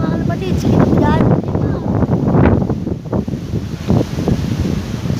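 Strong wind buffets the microphone in a heavy, continuous roar while pigeons are released outdoors in San Pablo City, with a voice talking partway through.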